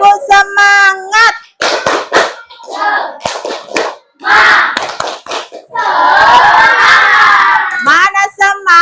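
A group of students claps sharp rhythmic patterns in unison while chanting along, loud and close, with bursts of handclaps broken by shouted voices and a dense clapping flurry midway.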